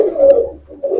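A domestic pigeon coos close by, two soft throaty rolls separated by a short pause, loud and clear with no talking.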